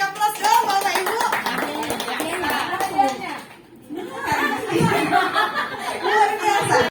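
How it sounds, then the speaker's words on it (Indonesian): An audience of parents and teachers at a school guidance counseling session applauds, with clapping mixed under lively chatter, chuckles and voices throughout, briefly dipping before picking up again. "kasih aplaus dong Bapak Ibu"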